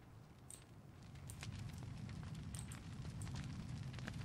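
Gunshots in the video game H1Z1 ring out as a few sharp distant cracks over a steady rumbling background, faint and spaced a second or so apart.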